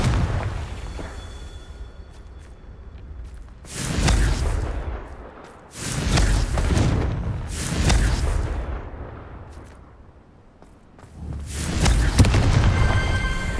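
Confringo blasting curses explode in the Hogwarts Legacy video game as a series of heavy, booming blasts with rumbling tails, arriving in loud bursts separated by short lulls.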